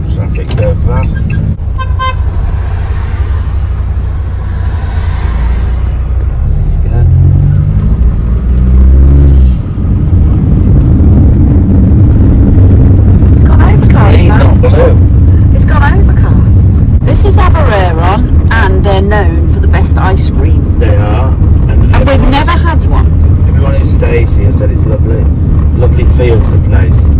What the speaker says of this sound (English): Let's let all these traffic go past.